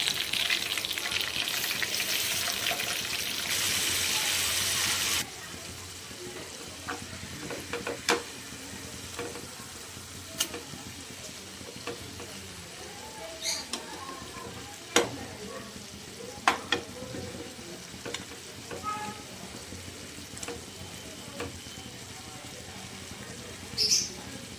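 Masala fish coated with curry-leaf paste fries in a covered pan, a loud, dense sizzle for the first few seconds that then drops to a softer crackle with scattered clicks and taps.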